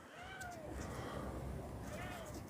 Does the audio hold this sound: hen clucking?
no